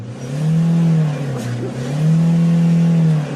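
A Citroën Picasso car engine accelerates in two loud, close surges, its steady hum rising and dipping between them.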